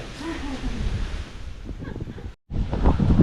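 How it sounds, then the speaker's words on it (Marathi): Strong wind blows outdoors in Ratnagiri under heavy pre-rain clouds, a loud, rough roar buffeting the microphone, dropping out briefly before surging back even louder. "हे बघा वारा किती आलाय बघा जोरात तिकडे"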